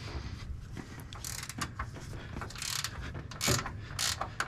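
An 11/16 open end wrench loosens a nut on an AMF 82-30 bowling pinsetter table, giving repeated close metallic ratcheting clicks and scrapes over a steady low mechanical hum, with a few louder clanks.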